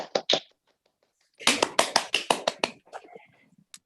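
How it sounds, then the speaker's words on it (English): Webinar participants clapping, a few quick claps first, then a short burst of applause from several hands that fades out, faint and thin as if through a call connection. "All participants, please give a big round of applause for Puan Aisyah presentation."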